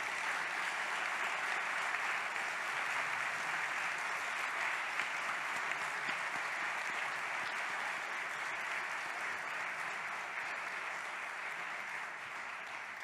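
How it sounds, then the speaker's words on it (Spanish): Steady, sustained applause from an audience at an evening commemoration of the International Day of the Disappeared, a dense, even wash of clapping that holds at a constant level throughout with no talk over it. "Les pido nuevamente un aplauso para nuestros oradores de la noche."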